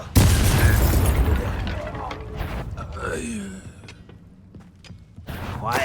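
A Bombarda spell blasts in Hogwarts Legacy, a loud booming explosion at the start that rumbles and fades, followed by scattered creaks, pops and lighter effects, with a voice speaking briefly.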